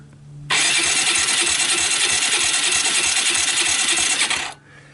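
Small single-cylinder engine of an abandoned Suzuki Quad Runner LT160 ATV cranking on the electric starter, a rapid rhythmic chugging whir that runs steadily for about four seconds before cutting off, close and loud.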